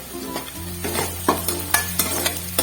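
Onion, garlic and ginger sauté in a hot pan, giving a steady close sizzle under repeated scraping and clinking stirring strokes from a spoon against the pan.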